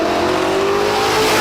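A 1977 Ford LTD II Sport engine revs steadily and loudly, a continuous close engine roar with a slowly rising pitch and no voices.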